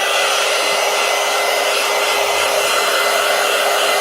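Hair dryer drying a wet painted collage, a loud, steady, continuous blowing whir held close for the whole stretch without any talking.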